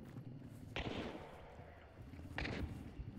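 Two sharp, distant-sounding gunshots in the video game Hunt: Showdown, about a second and a half apart, each a quick burst fading out over a low background rumble.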